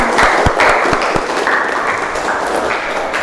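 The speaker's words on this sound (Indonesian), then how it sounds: "tepuk tangan untuk kita semua" Classroom group clapping in applause, a dense steady patter of many hands with a few sharper claps standing out, sustained and fairly loud throughout.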